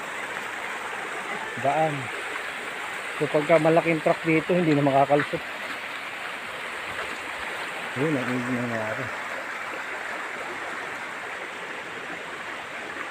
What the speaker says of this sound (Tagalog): Grabe yung inabot nitong ilog. Lumaki na.